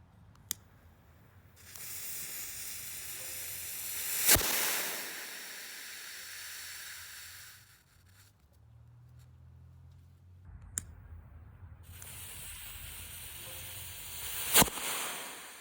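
A 3D printed rocket motor packed with compacted fuel ignites and burns as a faint, steady hissing rush lasting several seconds, with sharp pops at the start and end and a second hissing burst later.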